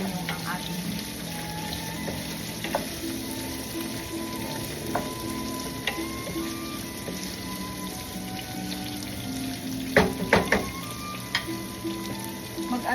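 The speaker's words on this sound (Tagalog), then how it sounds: "Lutuin lang po natin ng konti ang ating onions." Onions sizzle steadily in a pan for pork igado, a continuous frying hiss with occasional stirring clinks and a few louder knocks near the end.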